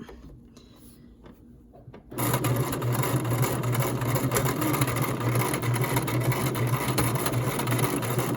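A sewing machine starts up after a quiet opening and runs steadily, zigzag stitching a homemade fabric mask with a close, continuous mechanical whir.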